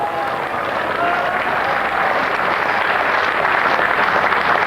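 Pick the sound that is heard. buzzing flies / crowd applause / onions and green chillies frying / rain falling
crowd applause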